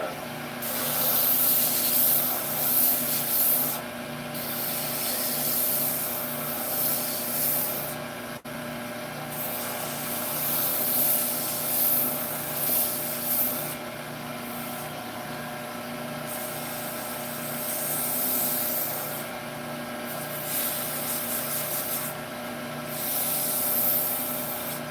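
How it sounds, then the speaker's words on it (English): A wooden Christmas ornament spins on a lathe in a basement shop while sandpaper is pressed against it, giving a steady whirring hum under repeated rubbing swishes that rise and fall in bursts. "So this one I am going to sand to 400. I want it to be super smooth, like glass."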